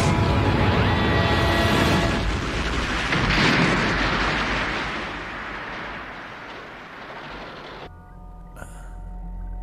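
Powerful Valkyrie weapon firing aboard a space station, a loud sustained blast roaring for several seconds before cutting off abruptly, followed by a quieter rumbling tail.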